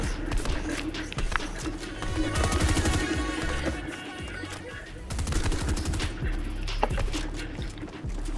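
No-scope sniper rifle shots ring out in a battle royale video game, sharp cracks punctuating a busy stretch of rapid gunfire and game noise, with faint voice chat underneath.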